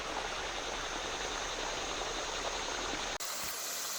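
Water pours steadily from a supply line into a wildlife pond used as a deer watering hole, a loud continuous rushing that cuts off abruptly near the end.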